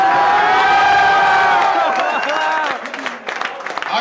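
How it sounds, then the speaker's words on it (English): Audience at a documentary event cheers and applauds loudly, with crowd noise and voices mixed in; a tonal, voice-like layer runs over the first half before the noise thins into scattered claps and cheers. "give him an applause for this afro"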